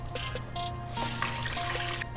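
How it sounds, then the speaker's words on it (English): Water is poured into a pot while making coconut milk rice, a soft splashing trickle with faint drips, close and quiet, with a brief louder gush midway. "So we're gonna add 2 cups of water"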